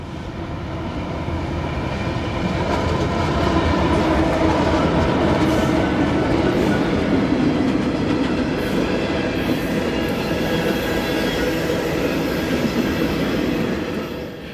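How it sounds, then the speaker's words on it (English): Freight train passing: CSX Q741, a unit Tropicana juice train of empty cars bound for Bradenton, Florida, rolls by as a steady, loud wheel-and-rail roar with clicking over joints that holds for the whole span and eases only at the end. "unit Tropicana juice train empties, headed home to Bradenton."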